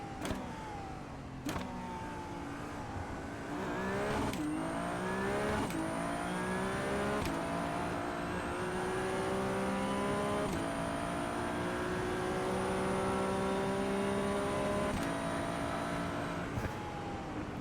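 Race car in the iRacing sim at the Miami Autodrome, engine droning steadily with rising and falling pitch through gear changes, reaching high speed then braking hard, with sharp shift cuts and a constant high whine throughout.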